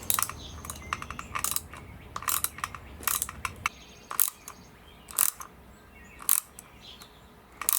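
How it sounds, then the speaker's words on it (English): Small ratcheting tool tightening a carburetor on a 2003 Honda Shadow 1100 motorcycle, heard as a series of sharp, close mechanical clicks in short bursts with pauses between them. "then we'll just crank it tight with that little ratcheting tool"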